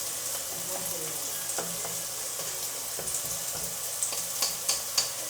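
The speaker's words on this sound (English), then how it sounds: "as the onions are getting softer and softer, I make sure I keep stirring so they don't burn out" Softening onions fry in a pot for African beans, a continuous close sizzle with scraping stirs and a few sharp utensil knocks toward the end.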